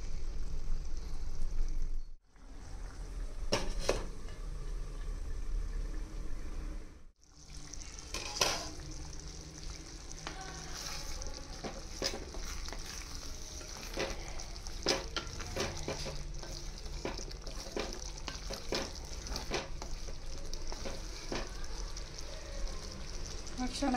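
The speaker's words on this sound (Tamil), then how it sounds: "அந்த வெண்டைக்காயோட அது நல்லா கொதிக்கட்டும்." Okra kuzhambu bubbling and sizzling in a clay pot on a home kitchen stove, a continuous close simmer with scattered pops and clinks, briefly cut twice, with a voice speaking faintly at times.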